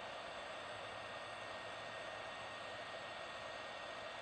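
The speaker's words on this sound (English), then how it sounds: "So we have the heat gun set to 150." A heat gun set to 150 blows hot air to shrink heat-shrink tubing over a spliced alarm clock electrical cord, a steady, even, faint airy roar with a low hum that holds unchanged throughout.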